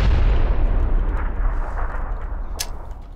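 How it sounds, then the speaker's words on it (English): A grenade explodes in the PUBG shooter game, one loud close boom at the start that decays into a long rumbling tail, with a faint sharp click near the end. "They threw a pretty good nade."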